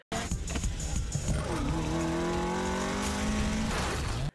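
Race cars cornering hard on a mountain pass in the Initial D film, engines wailing with rising pitch over steady tire squeal, loud and continuous with no talk.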